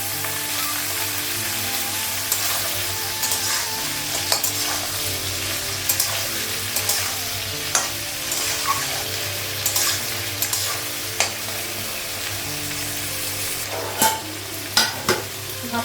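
Cauliflower and potatoes frying in a pan keep up a long, steady sizzle while a spatula scrapes and knocks against the pan at irregular intervals, fairly close and without speech.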